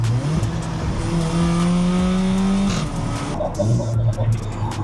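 A VW Caddy van built with Golf R performance accelerating hard, a loud close engine note rising steadily in pitch through the gears, then dropping briefly before climbing again.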